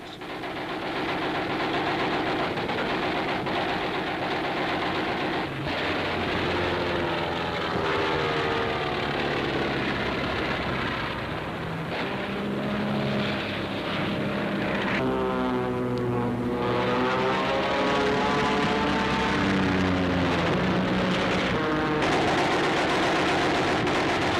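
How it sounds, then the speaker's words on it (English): Loud, droning roar of heavy propeller bomber engines, World War II era, sustained throughout with shifting, wavering tones as the planes pass. "Clear of the enemy, the bombers roar in."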